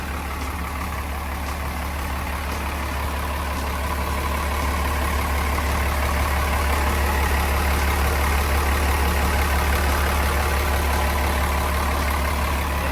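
The turbo diesel engine of a Komatsu WA200-3 wheel loader idles with a steady low rumble and even hum, close and unchanging for the whole stretch.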